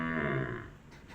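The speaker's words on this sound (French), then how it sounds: "Si on peut appeler ça un brame." A rutting deer gives a single short bellow that sounds like a cow's moo, close and moderately loud, fading out within about half a second.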